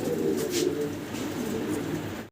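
Fancy white Bombay pigeons coo close by, a soft, continuous throaty burbling that fills the short moment.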